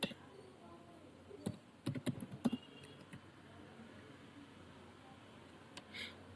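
Quiet typing on a computer keyboard: scattered keystrokes and a quick cluster of taps, with long, near-silent gaps between them.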